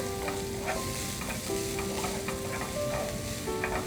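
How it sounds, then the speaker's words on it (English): Finely chopped spring onion greens and whites sauté in a pan with a continuous low sizzle and steady stirring scrapes, quiet and close, with no talk. "Now again I'm going to saute this for 1 minute"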